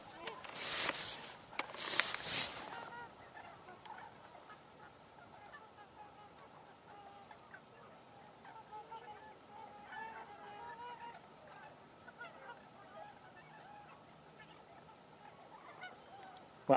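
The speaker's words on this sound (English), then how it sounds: "I think I recognize the tundra swans" Tundra swans give faint, distant honking calls outdoors during a birding tour, repeating softly over quiet background, after loud handling bumps at the start; a voice briefly speaks.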